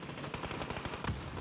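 Rapid bursts of gunfire in a PUBG esports match, dense rattling shots packed close together with one sharper, louder crack near the end.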